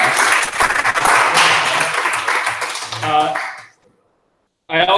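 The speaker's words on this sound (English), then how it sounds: "So a second round of applause is in order for the cast." At a live Survivor reunion, the audience applauds the cast with fast, dense clapping and some voices mixed in, fading out into silence before a voice returns.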